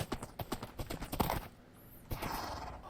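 Horse hooves clip-clop in a quick, steady gallop inside a Minecraft-style survival server game, a run of rhythmic thuds that breaks off briefly, then resumes under a brighter rushing sound.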